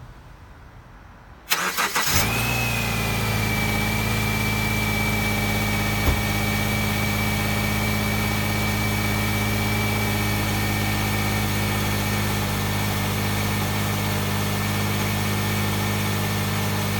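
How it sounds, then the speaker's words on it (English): A 2009 Subaru Forester engine cold-starting after a short quiet moment, cranking briefly and catching, then settling into a loud, steady, close idle with a high whine running above the hum. "now I'm just gonna do a cold start"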